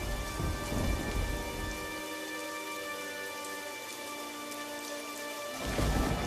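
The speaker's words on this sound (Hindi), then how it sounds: "तभी अचानक से जोर का तूफान आया" Heavy rain pours down in a sudden storm over a village, with rolling thunder rumbling loudly at the start and swelling again at the end, the downpour hissing steadily throughout with no voices.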